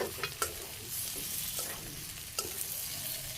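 Meat braising in a pan in a village kitchen, a soft steady sizzle broken by a few scraping stirs of a spoon, heard close and alone with no talk.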